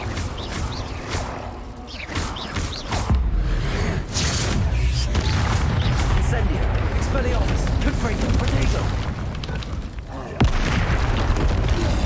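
Booming Confringo explosion spells from a Harry Potter video game burst repeatedly amid a dense wash of effects, close and loud throughout, with a sharp new blast near the end.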